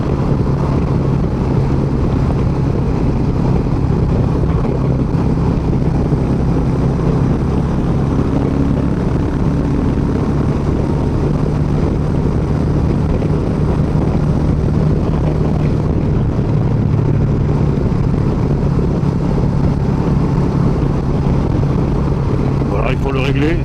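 Royal Enfield motorcycle engine holding a steady pace on cruise control while riding, a continuous low drone mixed with heavy wind rush, constant and loud throughout.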